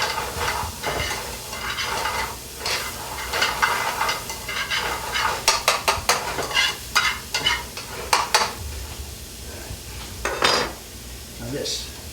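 Onions and carrots fried over intense heat, with a loud continuous sizzle and hiss and repeated rhythmic scraping and clattering of a utensil against the pan.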